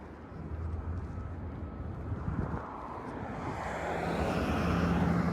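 Air Canada airliner passing overhead on a quiet street in North York, Toronto, a low steady engine rumble that swells toward the end of the clip, alone, with some wind noise.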